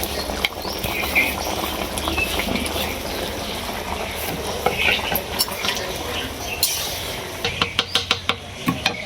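A cumin and cinnamon spice paste is added to a cooking pot and stirred, with steady bubbling and sizzling throughout and a run of quick metallic scrapes and taps of the spoon near the end, no talking.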